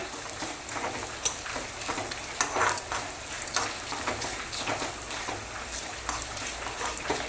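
Asafoetida powder fries in a pan while being stirred for a Kerala-style rambutan pulissheri, a soft, crackling sizzle with scraping stir strokes and small irregular pops, close by and without talk.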